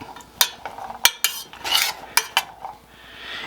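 A utensil works black beans around a saucepan over medium heat, giving irregular sharp metallic clinks and scrapes against the pan, close and fairly loud, with no voices.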